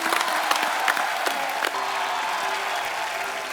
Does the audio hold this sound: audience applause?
yes